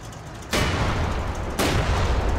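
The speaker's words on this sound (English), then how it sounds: "it's this T-34, it's moved up and is really blasting this barn over here" A T-34 tank in the Combat Mission WWII game fires at a barn: two loud, close cannon blasts about a second apart, each leaving a long rumbling decay.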